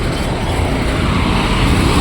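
Vehicles speeding along a road: a loud, steady roar of engines and tyre noise, close by and unbroken, with no talk.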